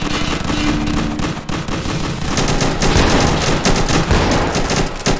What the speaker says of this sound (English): I hear the gunshot.